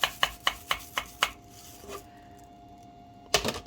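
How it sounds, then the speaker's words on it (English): Hard frozen grapes clatter in a container, a quick run of sharp rattling clicks, a pause, then another jumbled rattle. "And there's our frozen grapes. So, well, you can probably hear it."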